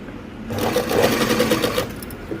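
A sewing machine stitches a thin gota border onto a blouse made from saree cloth, a loud, close, steady whirring run of rapid needle strokes lasting about a second and a half before stopping.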